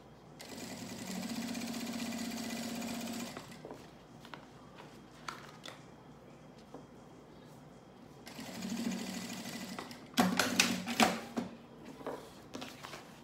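Sewing machine stitching fabric in bursts: a loud, fast mechanical whir that runs for a few seconds, stops, then starts again, with softer handling clicks and rustles between runs.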